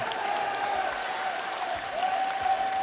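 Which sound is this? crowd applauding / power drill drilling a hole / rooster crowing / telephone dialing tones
crowd applauding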